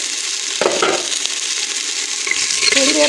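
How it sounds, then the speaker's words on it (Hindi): Fish head being sautéed in oil with garlic, cumin and spices for a yakhni soup, stirred in a pan with a steady close sizzle and occasional scraping, no voices. "तो अब हम इसकी बुनाई कर लेंगे"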